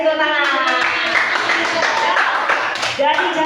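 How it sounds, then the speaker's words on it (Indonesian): Children clap their hands together in a classroom during a lesson on Indonesian culture, a busy patter of claps mixed with children's voices talking and calling out over it. "Oke, kasih tepuk tangan."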